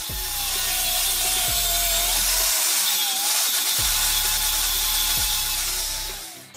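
A power tool, likely an angle grinder, cuts off the head of a bolt welded into a pipe for a homemade garden earth auger made from an old diamond disc, giving a loud continuous whining grind with shifting pitch and no talking.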